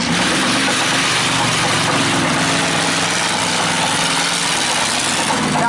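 A monster truck's 7.5 litre V8 Chevrolet petrol engine idles at an outdoor steam fair, a loud, steady, low rumble that holds level throughout with no talking.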